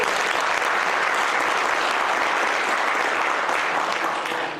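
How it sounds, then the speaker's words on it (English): An audience applauds dancing children at a keynote speech marking a 20th anniversary, with dense, loud, sustained clapping from a large crowd that fades slightly at the end. "Please give them a big applause."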